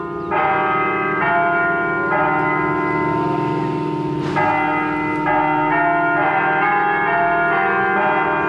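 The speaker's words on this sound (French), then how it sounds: "Ça fait longtemps que j'ai pas entendu une église comme ça." Church bells in Venezuela ring loudly and continuously, overlapping chimes layered into a rich, sustained peal with no talking.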